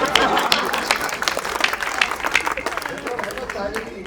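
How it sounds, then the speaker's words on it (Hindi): An audience at a Hindi comic poetry show claps vigorously, dense overlapping applause with some crowd noise underneath, gradually easing off. "जोरदार तालियों से लटूरी लट को आमंत्रित करिए"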